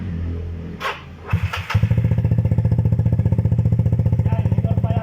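A lowered Yamaha Mio Sporty scooter with a 200cc engine and a part due for replacement sputters, catches and settles into a loud, rapid, evenly pulsing idle right up close.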